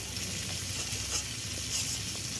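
Fish and an egg fry side by side in a pan of hot oil, giving a continuous crackling sizzle with small pops, close and even throughout, with no talking.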